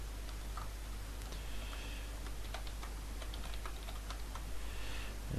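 Computer keyboard typing in a quiet room: a steady stream of light, irregular key clicks, moderately close, with a constant low hum underneath and no speech.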